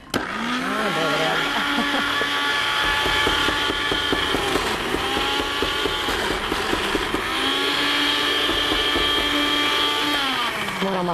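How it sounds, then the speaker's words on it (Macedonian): A kitchen blender purées eggplant pâté with a loud, steady motor whir that shifts in pitch as the load changes. It runs continuously for about eleven seconds and sounds close. "Да, нашиот добро познат блендер."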